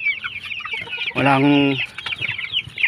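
Chickens on a small Filipino poultry farm cluck in short bursts, with one louder drawn-out squawk in the middle, under someone talking nearby.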